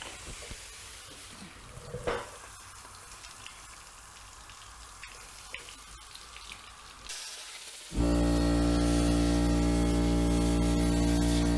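Water rinsing the radiator of a BMW K1600 GTL motorcycle, a soft spattering trickle with drips that suddenly becomes a loud steady close spray rush.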